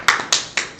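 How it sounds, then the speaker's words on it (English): A few sharp hand claps, evenly spaced and close by, with nothing else around them. "the round of applause for number 9"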